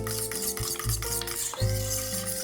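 Beaten eggs and cream being mixed together with a whisk or fork, giving rhythmic scraping strokes against the bowl with short pauses between bursts, close and moderately loud.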